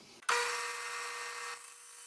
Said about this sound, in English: my choice for cutting this notch is, my first step is the bandsaw.